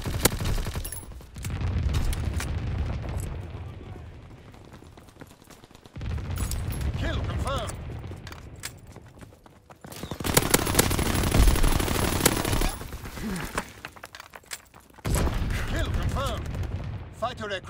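Flak guns fire in a video game in several sustained bursts of rapid, heavy automatic fire separated by short lulls, loud and dense, with a voice speaking briefly between volleys.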